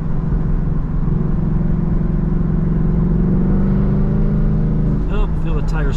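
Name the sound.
Ford Mustang GT engine accelerating on mountain road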